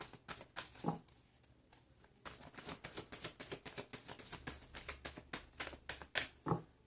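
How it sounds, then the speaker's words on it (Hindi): Tarot cards shuffled by hand in a last shuffle, soft rapid flicking and patting in an uneven rhythm, faint and close with no talking. "This is my last shuffle."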